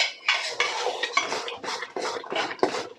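A pot lid clanks and a spoon scrapes through potatoes in a balti pan, with loud, close metallic knocks and stirring strokes repeating in a steady rhythm.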